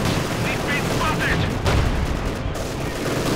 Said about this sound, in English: And there we go, another strafing run.